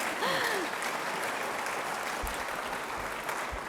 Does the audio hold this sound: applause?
yes